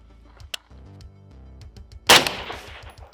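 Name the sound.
gunshots from LMT bolt action rifle, Shorty 10.5 piston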